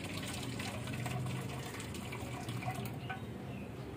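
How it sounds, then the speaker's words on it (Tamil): Water pours steadily as cooked ponnaganni greens are drained in a kitchen, a soft continuous gushing trickle at low level. "கீரையில் இருக்க தண்ணியை நம்ம வடிகட்டிட்டு"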